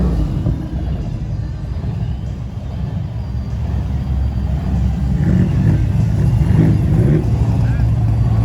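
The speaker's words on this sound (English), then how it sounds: "These guys in the world's smallest golf cart." A tiny golf cart rolls along a city street during the SEMA cruise, heard as a steady low motor rumble mixed with surrounding traffic noise, holding level and swelling slightly toward the end.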